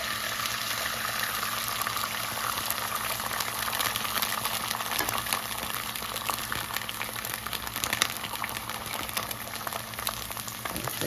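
Egg and butter sizzling in a skillet for a crispy breakfast sandwich: a steady, close frying hiss with fine crackle, continuous and even throughout without talk.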